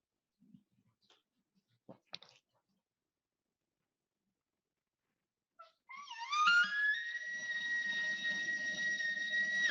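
A person imitates an elk cow call with a caller: a few faint clicks, then a high, elongated nasal mew that rises, holds steady for several seconds and ends abruptly, clear and close with no talking.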